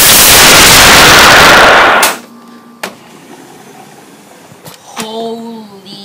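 A claymore mine detonates in a war video game with a loud, close, roaring blast that lasts about two seconds and then fades. A few sharp gunshot cracks follow, and a voice shouts briefly near the end.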